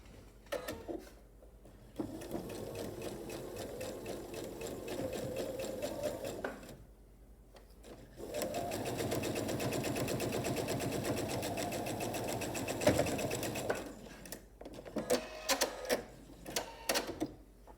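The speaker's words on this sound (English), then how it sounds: "And sew that with my 1/4 inch seam." Sewing machine stitching a 1/4 inch seam on a square-in-a-square quilt block, a steady rapid mechanical rattle in two long runs separated by a brief pause, followed by small clicks.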